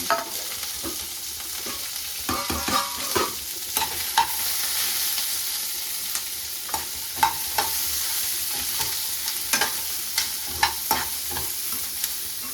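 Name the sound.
frying and stirring in a pan until toasted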